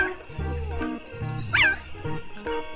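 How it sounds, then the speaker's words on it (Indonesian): A toy leopard gives out a few short, yappy electronic calls that sound more like a small dog's barks and yips than a big cat, fairly close and clear, with some faint talking around them. "Widi, ini adalah macan tutul"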